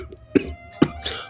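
Two sharp, close coughs come one after another, then a rougher exhale, from a man who has just drawn several puffs on a hookah.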